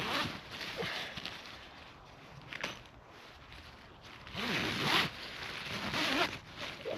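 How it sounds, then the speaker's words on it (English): Close, scratchy zipper strokes come in several bursts with brief pauses as a small ground storage bag is zipped shut outdoors on a freezing night. Light rustling sits in between, with no talk. "Basically, you just zip it up and it's not catching itself."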